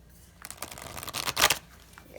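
Everyday Enchantment tarot cards are shuffled sideways by hand, a close flurry of riffling, slapping card edges that builds to a louder burst then eases off, with no talking.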